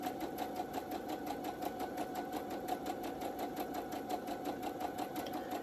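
A sewing machine runs a steady straight stitch along a skirt seam, its needle beating in a fast, even rhythm at close range for the whole stretch with no talking.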